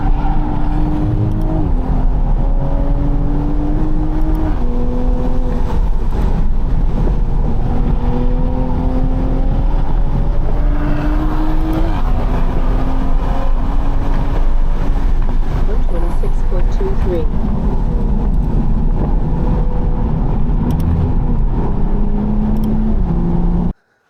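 A race car engine drones loudly throughout a lap of Suika Circuit, pitch climbing and dropping through repeated gear changes, with wind and road noise.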